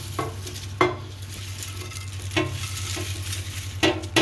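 Crispy roasted Brussels sprouts shaken in a pan, with several rattling, scraping bursts over a constant low hum, close and moderately loud, spaced irregularly across the clip.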